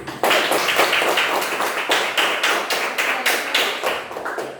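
A group of students in an Indonesian classroom claps together after a discussion presentation, a brisk run of distinct, fairly loud hand claps close by with no talking over them.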